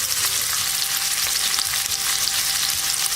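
Chopped onions with salt and curry leaves fry in a hot pan for tomato kurma, giving a steady, dense sizzle that holds throughout with no voices.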